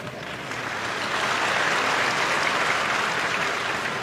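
An audience at a conference breaks into steady, dense applause that swells quickly and holds loud and even for several seconds, with no speech over it.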